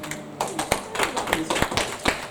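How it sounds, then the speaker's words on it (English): Congregation at a church service clapping hands in a steady rhythm, a run of sharp claps spaced roughly evenly, fairly close and moderately loud, with voices murmuring underneath. "Clap your hands and celebrate God."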